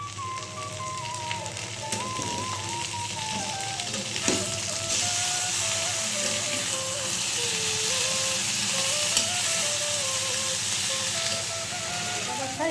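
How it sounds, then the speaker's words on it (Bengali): Potatoes and snake gourd frying in a pan, a loud, continuous close sizzle with a faint melodic tone running underneath. "এখানে হচ্ছে আলু আর চিচিঙ্গা দিয়ে ভাজি করব।"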